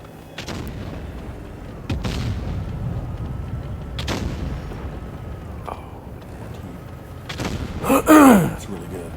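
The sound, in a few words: tank gunfire in video game World of Tanks Blitz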